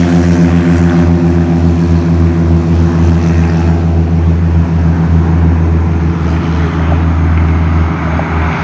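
A propeller airplane at the American Airpower Museum in Farmingdale, New York, takes off with a loud, steady engine drone and propeller hum that holds constant throughout, with no voices.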